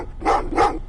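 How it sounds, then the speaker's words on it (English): A dog in Terminator: Resistance giving two quick, close barks less than a second apart over a low background hum. "Well, what's with the dogs?"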